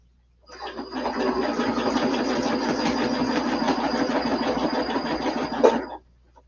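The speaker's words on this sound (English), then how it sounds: "I was doing some regular sewing on this earlier, so let me turn the speed down just a tinge" Sewing machine stitching a quilt block at reduced speed, a steady close whirring and rapid needle chatter running for several seconds and then stopping, with no talk.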